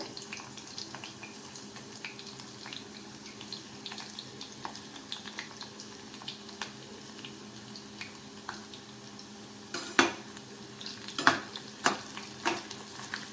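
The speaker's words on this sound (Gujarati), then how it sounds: "તેલની અંદર આપણે એક પછી એક ગોટા ઉમેરી દઈએ" Gota dumplings for Surti lilu undhiyu fry in peanut oil with a soft, steady sizzle and scattered light clicks, then a few louder clatters as more go in near the end.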